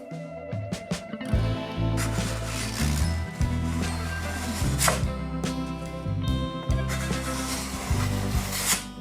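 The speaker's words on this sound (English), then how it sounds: "So I'm mainly scraping the bit that is touching the body on the side, not the top" Steady rasping scrape of a tool drawn repeatedly across the side of a wooden guitar body, close and continuous, with occasional light clinks; no talking.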